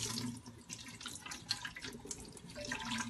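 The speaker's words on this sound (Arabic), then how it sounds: "نبدا بقى نشطفها" Tap water runs steadily into a sink as dishes are rinsed under it, a close, continuous splashing hiss with small clinks.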